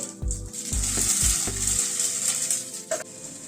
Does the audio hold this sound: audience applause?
no